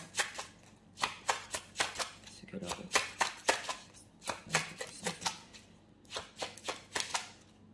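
Tarot cards being shuffled by hand, rapid crisp riffling flicks in quick bursts with short pauses, close and fairly quiet, with a voice talking softly over parts of it.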